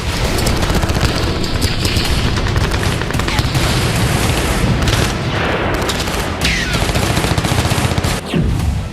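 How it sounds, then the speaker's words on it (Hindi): Heavy gunfire in a combat zone, dense continuous bursts of automatic fire and booming shots, loud and close, layered with no letup throughout. "वहां भीषण गोलीबारी हो रही है"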